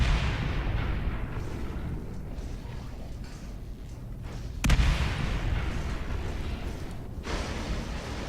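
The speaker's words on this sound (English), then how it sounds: "Oh, good grenades." Grenade blasts in a Halo multiplayer match sound as a dense, continuous rumble of booming game explosions, with one sharper burst standing out midway under steady noise.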